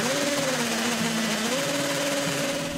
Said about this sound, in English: my combi drill on a hammer drill setting, I drilled a hole into my brickwork